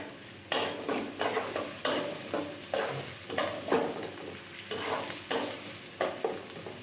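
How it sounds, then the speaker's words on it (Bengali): Onions fry in oil under a steady sizzle, broken by a regular series of loud, close stirring scrapes about every half second to second. "আমি এই তেলের মধ്যেই পেঁয়াজগুলোকে ভেজে নিব, এই যে দিয়ে দিচ্ছি সবগুলো পেঁয়াজ"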